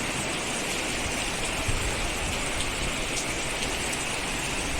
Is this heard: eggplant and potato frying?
no